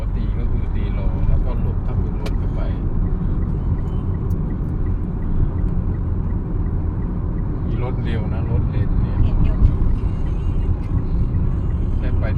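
A car's engine and road rumble hold steady and loud from inside the cabin as it pulls onto a motorway, with faint voices talking beneath the continuous drone.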